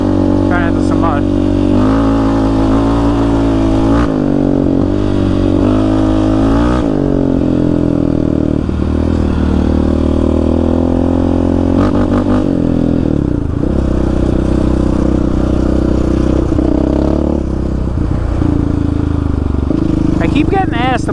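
A Yamaha Raptor 700 ATV rides through sandy Arizona desert washes and washed-out trails, its engine droning loud and close with repeated revving rises and falls, plus scraping and clattering over rough ground.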